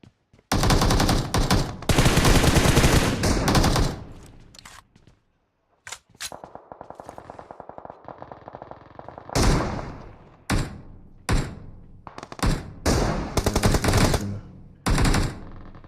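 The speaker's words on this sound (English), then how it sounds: "Finally, the bullets start to fly." Gunfire from PUBG Mobile battle royale play, with loud bursts of automatic rifle fire, rapid single shots and short pauses between volleys, close and sharp, with no talking.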